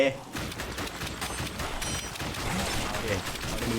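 Rapid gunfire from The House of the Dead arcade shooter, a dense run of shots crackling continuously across the clip with game sounds and excited voices mixed in.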